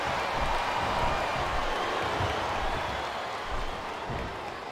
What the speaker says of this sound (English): It sounds like this capacity crowd is something on their minds